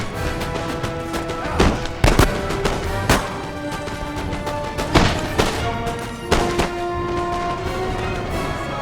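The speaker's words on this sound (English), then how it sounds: "It's a very long range fire going on." Long-range musket volleys in a Napoleon: Total War multiplayer battle at Dresden: sharp, irregular cracking reports, some closer and louder, over a steady din of distant gunfire and sustained musical tones.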